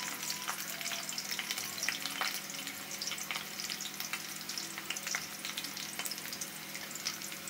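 Nigella seeds (black cumin) sizzle in a small amount of hot oil for a vegetable and small-prawn curry, a steady close hiss sprinkled with frequent sharp crackles and pops throughout, with no voices.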